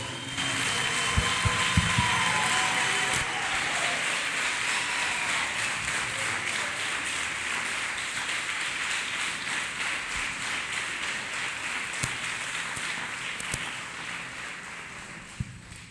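A church congregation claps their hands in sustained applause, a dense, steady patter of many hands that carries on for the whole stretch and tapers slightly near the end.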